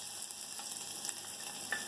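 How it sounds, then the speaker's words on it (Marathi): Chopped onion fries with mustard seeds, cumin and asafoetida in hot oil in a pot for black-eyed bean curry, giving a soft, continuous sizzle with small crackles, fairly faint and alone. "आधी कांदा चांगला परतून घ्यायचा."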